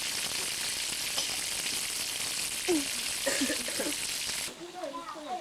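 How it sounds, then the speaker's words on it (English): Loud, steady sizzling of fish frying in hot oil in Ghana, with faint voices underneath; the sizzle cuts off near the end, leaving quieter background chatter. "Here they're frying the fish"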